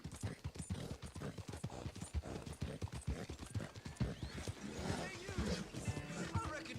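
Steady, rhythmic clip-clop of horse hooves, close and continuous, with a busy background of other game sounds underneath.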